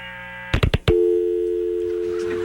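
A telephone line clicks several times as the call disconnects, then a steady, loud dial tone hums on unbroken.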